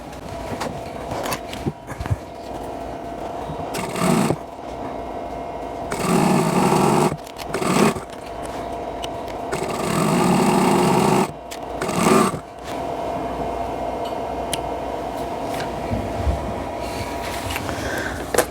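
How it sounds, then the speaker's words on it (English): A sewing machine stitches corner to corner across a quilt block along drawn lines, running in several loud bursts of steady whirring separated by short pauses. "I'm going to sew right across, right on my drawn lines"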